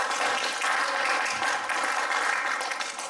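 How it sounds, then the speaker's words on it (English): A church congregation bursts into sustained applause, dense and even clapping filling the room for a few seconds without pause. "Give Lord a hand clap of praise."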